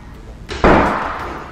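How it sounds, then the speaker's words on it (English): A door slams shut once indoors in an empty, unfurnished house, a sharp loud thud that rings out briefly in the bare room. "Close the door."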